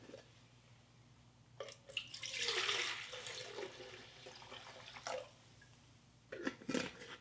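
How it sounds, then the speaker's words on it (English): Liquid is poured off a yeast starter in a home-brewing setup, a faint splashing pour that swells in bursts and trickles between quieter pauses, with no talk. "I'm just going to pour off and just leave a little bit left in there"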